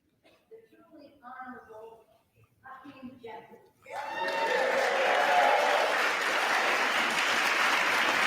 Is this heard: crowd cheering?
yes